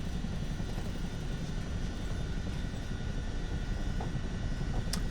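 A helicopter taxiing on an airfield in Microsoft Flight Simulator 2024, a steady droning rotor and engine rumble holding level throughout, with a couple of faint clicks near the end.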